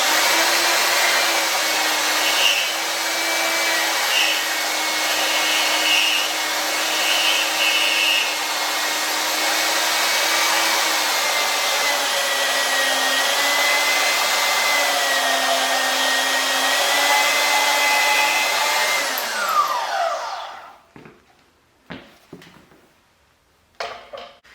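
A DeWalt deep cut portable bandsaw runs loud and steady for about twenty seconds, its pitch shifting slightly as it cuts, then winds down, followed by a few sharp knocks and clatters.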